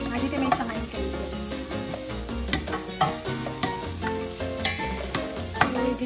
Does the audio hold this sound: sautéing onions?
yes